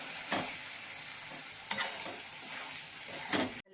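Stuffed long capsicums and masala fry in oil in a pan, giving a constant close sizzle broken about every second and a half by the scrape of a stirring spoon.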